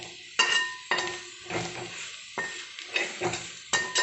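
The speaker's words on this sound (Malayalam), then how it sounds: "ഇങ്ങനെ ഇളക്കൽ തന്നെയാണ് ഈ ബീഫിൻ്റെ മെയിൻ പരിപാടി." A spoon scrapes and stirs Thrissur-style beef fry in a hot pan, giving a series of sharp metallic clinks and scrapes over a soft background sizzle, with uneven gaps between strokes.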